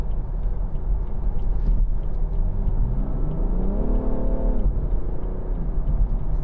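A BMW 335d M Sport Touring diesel with xDrive accelerating hard up a motorway slip road, its engine note climbing steadily through rising revs before easing off, heard from inside the cabin with road rumble underneath.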